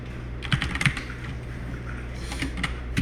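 Keys clatter on a computer keyboard as code for a for loop is entered, a steady run of soft taps with a few louder strokes, close and alone with no talk.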